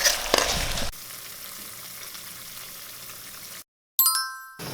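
Oil poured into a hot pan erupts in loud, hissing sizzle for a brief moment, then settles into a steady, quieter frying crackle before cutting out and sputtering again.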